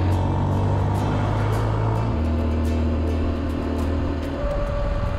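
A big, powerful motorbike loaded with heavy gear, ridden on roads in northern Vietnam: a loud, steady engine drone with the pitch stepping up as it shifts and revs, close and continuous, with wind buffeting over it.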